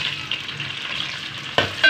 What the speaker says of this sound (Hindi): अब हम इसमें डालेंगे ऑयल, डालेंगे प्याज